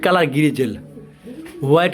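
A pigeon coos in a few soft, throaty rolling phrases at close range, the calls broken by a short pause.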